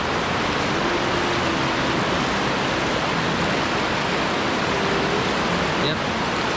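Strong floodwater rushing through a flooded street in Tanah Kareh, a loud, steady, broadband roar that fills the whole stretch without letup, with faint voices barely audible underneath.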